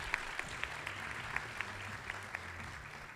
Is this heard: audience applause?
yes